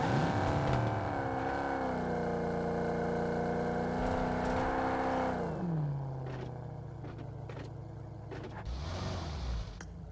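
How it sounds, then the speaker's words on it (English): Engine of an American muscle car in a racing video game, a loud steady drone with rising and falling pitch as it revs and shifts, easing off partway through, with no talking over it. "You guys can hear car sounds, right?"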